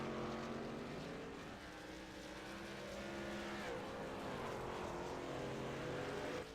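Dirt track race cars roar around the oval in a heat race at a dirt derby, a steady loud engine drone with rising and falling pitch as the pack circles, no voices over it.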